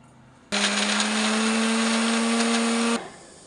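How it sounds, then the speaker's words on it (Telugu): A kitchen mixer grinder whirs loud and close while grinding coriander, green chilli, cumin and cashews, starting abruptly, holding a steady motor drone with a strong hum, then cutting off. "ఇందులో కొత్తిమీర, పచ్చిమిర్చి, కొంత జీలకర్ర, అలాగే జీడిపప్పు వేసి మిక్సీ చేస్తాను"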